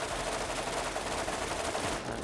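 Rapid machine gun fire from a weapon in the video game Borderlands, a dense continuous rattle of loud shots that runs almost unbroken before easing slightly near the end.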